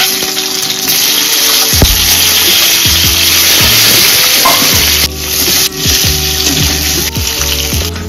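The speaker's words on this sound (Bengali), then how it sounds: "এর মধ্যে আমরা এই তেলটা থেকে আবার ডিমগুলোকে ছেড়ে দেবো।" Eggs dropped into hot oil for an egg and potato curry in a Kolkata home kitchen sizzle loudly and steadily at close range, with faint clinks and scraping under the frying.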